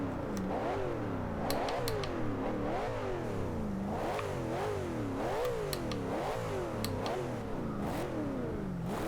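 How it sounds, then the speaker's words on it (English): A 2012 Ultima GTR in Forza Horizon 2 revs hard over and over, the engine note sweeping up and down in a loud, close cycle while sharp exhaust crackles and pops break through at the top of each rev. "that exhaust sounds really mean, just that crackle at high revs"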